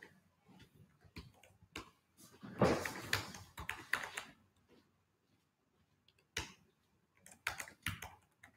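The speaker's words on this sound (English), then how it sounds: "I am typing a message you guys can look into." Typing a message on a computer keyboard, heard as quiet, scattered key clicks in short irregular bursts with pauses between them, in a quiet room.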